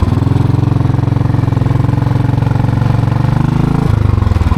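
Motorcycle engine running loud and close with a steady throbbing drone, its pitch dropping and the note changing near the end as the rider shifts gear; no talking.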